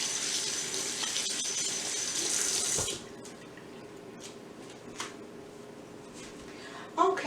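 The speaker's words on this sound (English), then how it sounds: "see if I can wash my hands here" Tap water running steadily into a kitchen sink while hands are washed, a bright hissing stream for about three seconds that then shuts off, leaving quiet clinks and faint room noise.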